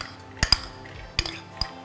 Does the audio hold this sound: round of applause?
no